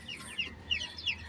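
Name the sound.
Brahma chickens clucking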